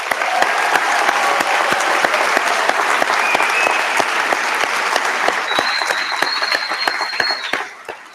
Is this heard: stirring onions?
no